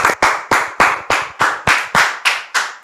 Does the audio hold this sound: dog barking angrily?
no